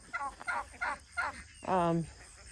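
Young hatched chickens on a farm, kept near pigs, give four quick clucking bursts followed by a longer drawn-out call, close and fairly soft.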